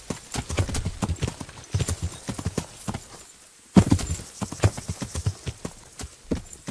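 A horse's hooves clip-clop in the video game Kingdom Come Deliverance, a brisk irregular run of loud close thuds with a short lull midway before the trotting resumes.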